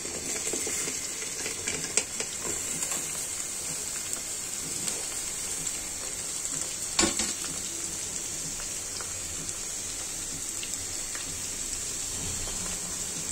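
Potato, eggplant and tomato pieces with whole garlic cloves fry in a pan for garlic khichdi, giving a steady, close hiss with a couple of brief clatters.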